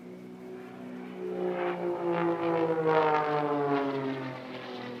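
Display aircraft spiralling down in a dive at an airshow, a steady droning engine note with rising and falling harmonics that swells louder and nearer midway, then eases slightly, with no talk over it.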